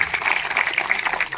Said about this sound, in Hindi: कृपया तालियों की गड़गड़ाहट के साथ इन सबका स्वागत करते रहिए